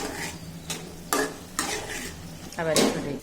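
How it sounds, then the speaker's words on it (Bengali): Bitter gourd and potato curry stirred in a covered pot: several distinct scraping clinks of a spoon against the metal pot at irregular intervals, close and moderately loud, with a faint simmering hiss underneath. "এই দেখো একটু নেড়ে দিতে হয়, এইভাবে নেড়ে দিয়ে আবার ঢেকে দিতে।"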